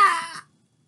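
A voice imitates a garden hose spraying with a short breathy, hissing vocal burst lasting under half a second, close and fairly loud, then silence.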